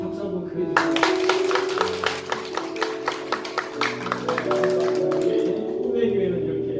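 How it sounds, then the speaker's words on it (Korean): A church congregation at a Korean service claps together, a steady run of sharp hand claps for several seconds that fades out, heard under someone speaking over a sustained organ-like tone. "여러분 박수 한번 크게 주세요"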